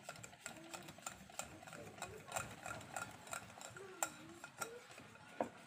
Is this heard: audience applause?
no